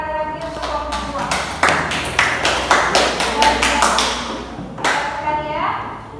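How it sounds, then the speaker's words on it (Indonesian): A school class applauding a student group, a burst of many hands clapping close by that swells, holds for a few seconds, then fades, with a voice speaking before and after. "Kita berikan tepuk tangan sekali lagi untuk kelompok 2."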